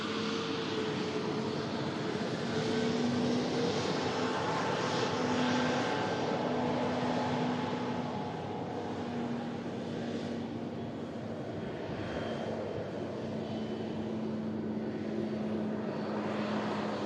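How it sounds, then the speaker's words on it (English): A Ryanair Boeing 737 MAX 8200 jet comes in to land, its engines a steady, broad roar that holds loud and continuous throughout, with a faint engine tone running underneath. "Ryanair 737 MAX 8200 coming in"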